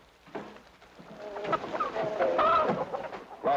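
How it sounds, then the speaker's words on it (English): A chicken clucks and squawks nearby in a 1962 war drama scene, with agitated, wavering calls that grow busier and louder midway, no speech over them. "what do you think you're doing with that chicken?"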